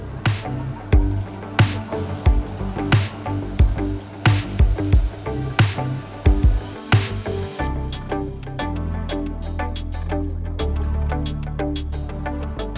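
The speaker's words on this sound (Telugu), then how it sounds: "ఆయిల్ హీట్ అయింది. ఇందులో తరిగిన ఉల్లిపాయలు వేసుకోవాలి." Chopped onions hit hot oil for egg curry, loud crackling pops and spitting that settle into a steady dense sizzle, close and alone without talk.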